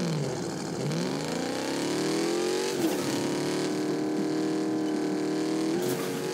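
Car drifting in Fortnite Chapter 4 Season 4, a revving engine whine sweeping up and settling into a sustained buzzing drone, with a brief squeal-like burst near the middle.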